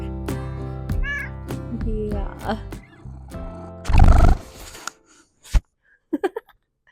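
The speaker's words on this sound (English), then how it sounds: "A needy cat this morning." A cat meows several times in a home, with harmonic cries near the start and a louder, longer call in the middle, then a few short faint sounds after a pause.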